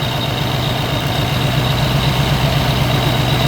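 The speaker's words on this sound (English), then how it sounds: "you hear the engine lug down" A supercharged Coyote Mustang engine idles with a steady, loud, close drone that holds constant, with no voices and no clear drop as the fans start.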